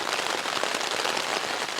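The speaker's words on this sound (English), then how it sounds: "It is pouring." Heavy rain pouring on a tent during a winter storm backpacking overnight, a dense, continuous hiss and patter of drops drumming on the fabric close overhead, with no voices.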